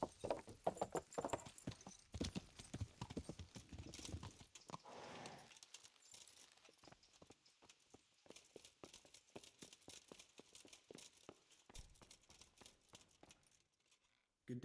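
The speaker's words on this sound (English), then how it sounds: "It's just a random horse that came to me." Horse hooves clip-clop in the Kingdom Come: Deliverance video game, a fast cluster of close hoofbeats that slows into sparser, fainter steps with a brief pause, quiet overall.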